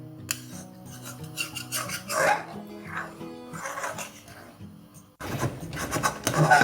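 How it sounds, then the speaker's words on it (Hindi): A spoon scrapes repeatedly against a pan while rabri is stirred and thickened over medium flame with cashew and almond paste, giving uneven rhythmic scratching, close and moderately loud, with background music. "और इसको अब हम चलाते रहेंगे गाढ़ा होने तक।"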